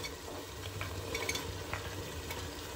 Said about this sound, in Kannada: ಅವರೆಕಾಳು ಹಾಕೊಂಡು ಚೆನ್ನಾಗಿ ಮಿಕ್ಸ್ ಮಾಡಿ